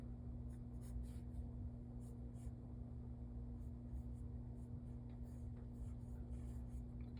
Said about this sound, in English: Taking my time now to draw my ellipse.